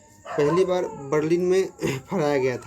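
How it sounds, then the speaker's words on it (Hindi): A dog barks and howls in drawn-out, wavering yelps in three bursts, clearly mixed with someone speaking over it. "यहाँ आप कुत्ता का आवाज़ सुनाई दे रहा होगा दोस्तों"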